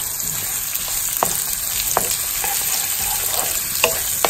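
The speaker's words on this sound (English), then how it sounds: "when they start to sizzle up, we are going to throw in the" Steady crackling sizzle of sliced onion frying in a pan, with occasional scrapes and clicks of stirring, close and continuous.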